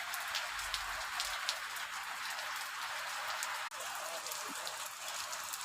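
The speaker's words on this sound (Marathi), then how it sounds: "बघा किती वातावरण थंड झाले, फुल पाऊस पडते बाबा." Heavy monsoon rain pours down steadily in Pune, a dense, close patter of drops striking surfaces with a brief thud midway; a voice is faintly present at times.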